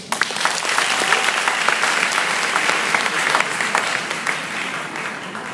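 Sustained applause from an audience for a finalist from Dubreka at a high school competition, a thick continuous clatter of many clapping hands with no voice over it.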